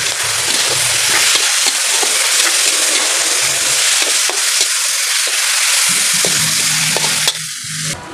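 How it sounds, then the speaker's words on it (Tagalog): Pakbet vegetables seasoned with black pepper are stirred in a hot pan, a steady loud sizzle running throughout with scraping stir strokes, the frying easing toward the end. "Tapos, haluin natin"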